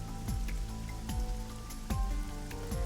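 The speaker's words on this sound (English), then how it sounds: "This rain is depressing." Rain in the video game Ai: The Somnium Files falls as a steady, dense patter with rhythmic dripping beats beneath, a constant moderate wash with no talk.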